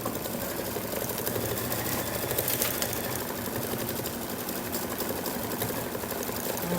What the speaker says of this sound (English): And it's just stitching at some stems.